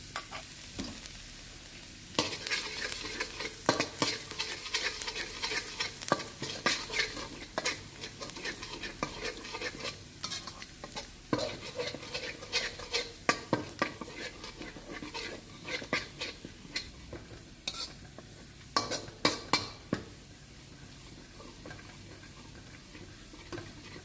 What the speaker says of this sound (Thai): ใส่น้ำมันสำหรับผัดลงไป ตามด้วยกระเทียมสับ ผัดให้หอมเหลืองดีซะก่อน